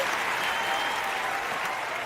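A crowd applauds at a stage award event, a steady dense clapping that stays fairly loud and even throughout.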